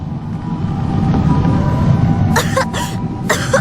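A video game character coughs three times in short bursts over a low, steady rumbling background drone, the first two coughs close together, the last after a pause.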